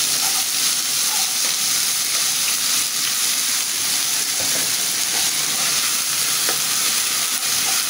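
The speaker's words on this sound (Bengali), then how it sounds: "এটা আমি সুন্দর করে আগে কষিয়ে নেব, যাতে কাঁচা গন্ধটা চলে যায়।" Ginger-garlic paste fries with onion in hot oil for a Bengali egg, potato and pointed-gourd dish, a dense, loud, unbroken sizzle up close with faint stirring scrapes throughout.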